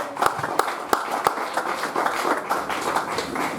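A church congregation applauds, steady dense clapping with a few sharper individual claps standing out, filling the room with no talk over it.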